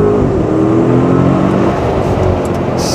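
A stage 2 tuned car accelerates hard, a loud, close engine roar that climbs steadily in pitch and stays strong throughout.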